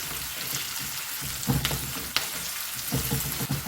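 Steady sizzling of onions frying in a pan with turmeric, a dense crackle with a few louder pops and stirring clatters, close by with no talking.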